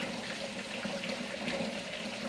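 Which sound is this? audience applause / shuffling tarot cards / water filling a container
water filling a container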